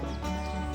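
Horse on a farm giving a brief neigh with a faint clop, heard close and moderately loud for under a second.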